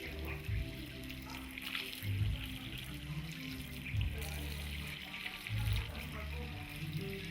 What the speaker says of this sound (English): be careful when splashing water into this.